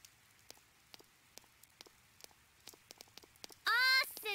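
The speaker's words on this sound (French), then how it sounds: "Ah, il pleut." Light rain patters with scattered soft drops in the video game Persona 4, then a sudden burst of bright chirping, chiming tones cuts in near the end.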